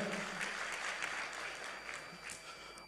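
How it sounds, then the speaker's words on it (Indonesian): Audience at a santri digital entrepreneurship side event applauding, a brief dense burst of clapping that stays steady and fairly close from start to finish. "Tepuk tangan dulu semuanya."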